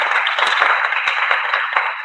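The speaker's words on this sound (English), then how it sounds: "I want to give everyone a applause." Sustained audience applause at a school board candidate night in Cuyahoga Falls, Stow and Munroe Falls: dense, steady clapping from a crowd with no speech over it.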